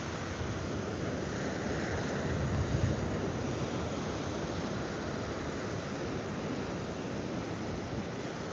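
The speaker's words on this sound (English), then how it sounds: "And these waves, they don't look especially big or powerful" Low, steady wash of ocean waves rolling onto an eroding beach, a fairly faint, continuous surf hiss with gentle swells and some wind, no voices.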